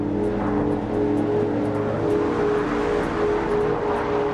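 M1126 Stryker infantry carrier vehicle driving, a steady loud engine drone with a constant low mechanical hum and faint periodic ticking, heard up close without talk.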